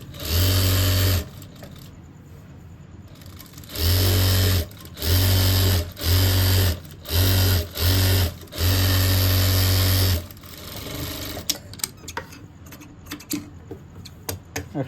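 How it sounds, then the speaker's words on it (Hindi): Sewing machine stitching the edge of a boy's cord set garment: several loud, close bursts of rapid mechanical whirring separated by short pauses, then quieter handling clicks at the end, with no talking. "अब इसके बाद हमने एक किनारे की सिलाई लगानी है।"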